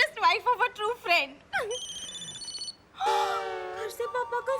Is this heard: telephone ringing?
yes